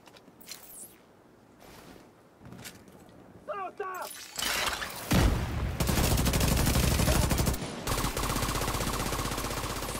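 A gun turret opens fire in the shooter video game Division 2, sharp bursts that swell into sustained, loud automatic gunfire filling the second half, with scattered footsteps and softer game sounds before it.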